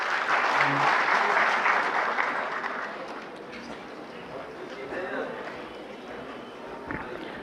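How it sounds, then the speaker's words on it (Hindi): Audience applause at a workshop swells loudly at the start, then thins into scattered clapping and fades, with a voice faintly audible near the end. "एक बार तालियों से उनका स्वागत करेंगे प्लीज़"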